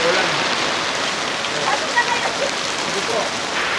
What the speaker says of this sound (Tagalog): Grabe naman ang lakas ng ulan.